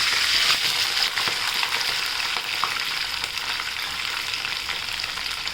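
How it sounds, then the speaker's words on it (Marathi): Onion sautéing in a pan with curry leaves and green chillies for tomato rice, a loud steady hissing sizzle with a few soft stirring scrapes, close up. "आपण हा छान परतून घेऊ"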